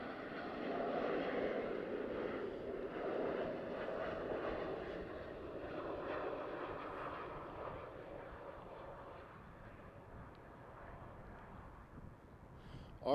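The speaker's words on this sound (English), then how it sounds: "What would you like to see when the A380 is flying by?" An Airbus A380 flies by at Schiphol in winter conditions. Its deep, broad engine roar holds strongest early on and slowly fades as the jet passes, with no voices over it.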